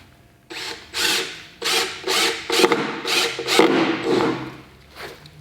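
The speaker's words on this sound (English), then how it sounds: "for now, we'll put some screws in it" A power driver sinking screws into a plywood boat transom: repeated loud whirring bursts of about half a second each, close up, in an uneven rhythm with short pauses and a ratcheting bite as each screw seats.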